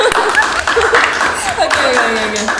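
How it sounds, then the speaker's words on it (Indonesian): An audience at a talk event claps hands in a steady burst of applause, with voices talking over it throughout. "Tepuk tangan lagi teman. Oh, boleh tepuk tangan lagi."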